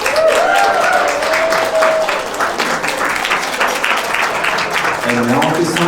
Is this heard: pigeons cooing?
no